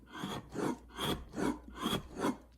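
Stiff prototype bellows folding and unfolding in a steady back-and-forth rhythm, a dry rasping rub repeated about six times, clunking down in the middle of each stroke, close up with no talking.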